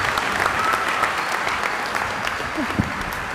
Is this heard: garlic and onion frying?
no